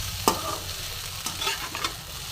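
Vegetables fry in a hot pan with grated coconut, sizzling steadily at close range while a spoon scrapes and stirs through them in a few sharp strokes.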